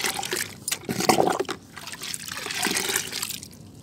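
Diluted mustard cake liquid fertilizer pours onto vegetable plants such as green onion, okra and beans, a close, steady splashing trickle with brief surges, heard alone without talk.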